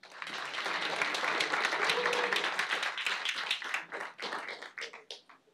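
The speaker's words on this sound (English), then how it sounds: "Let's give a warm round of applause for Ramesh." Audience applause at a Python meetup talk, a dense burst of many hands clapping together that holds steady and then thins into scattered claps as it fades, heard alone without talk.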